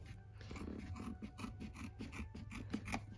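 Scissors snip close around shape-form stabilizer after an embroidery hoop stitch-out for a Christmas ornament, a steady run of about a dozen quiet, crisp cuts at an even rhythm, close by with no talk.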